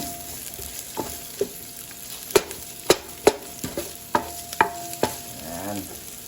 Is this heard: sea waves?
no